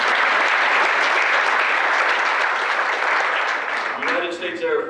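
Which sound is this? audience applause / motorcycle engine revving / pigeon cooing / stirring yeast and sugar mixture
audience applause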